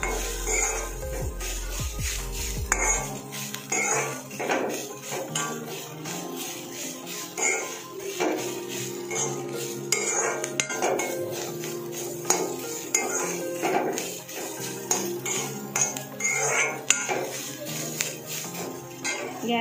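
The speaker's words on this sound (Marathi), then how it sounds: "आता मी ह्याच्यामध्ये कोथिंबीर घेतलेली ना ते टाकून घेते। चांगली आपण मिक्स करून घेऊया।" A spoon scrapes and clinks in a pan while green chili thecha is mixed with fresh coriander, steady light stirring and metallic taps running throughout at moderate level, with faint low sizzling beneath.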